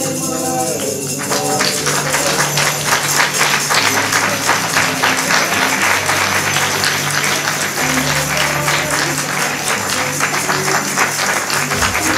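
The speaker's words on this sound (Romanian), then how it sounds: "Aplauze, aplauze, aplauze!" Steady clapping from a church concert audience at a Christmas carol concert, continuous and fairly loud, with a tonal background under it throughout.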